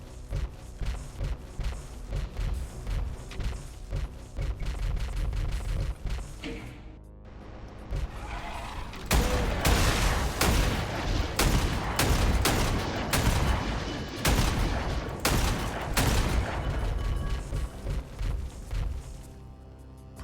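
Video game combat from Mash Up Demons: a long run of rapid gunfire bursts and heavy blasts, with a louder explosion as a rock blows up, sharp impacts repeating throughout.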